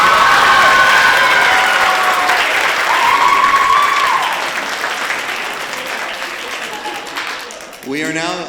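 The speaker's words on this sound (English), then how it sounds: "another round of applause for our middle school team" Sustained crowd applause with cheering fills the room, steady and loud, tapering slightly toward the end as a voice briefly cuts in.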